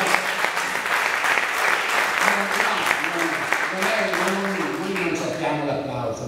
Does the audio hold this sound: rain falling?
no